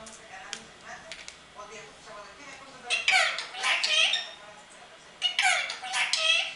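A ringneck parakeet squawks indoors in sharp, repeated bursts, with two louder clusters of shrill calls, while a person speaks to the bird nearby.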